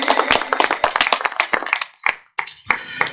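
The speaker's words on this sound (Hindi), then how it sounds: "एक बार जोरदार ताली उनके लिए बजा" Audience members at a Hindi poetry recital clap in loud, irregular bursts, the sharp hand claps near and uneven, with a brief silent pause before a final flurry.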